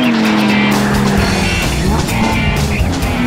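A supercar races hard around a Grand Prix racetrack, its engine roaring loud and close with squealing, skidding tires throughout.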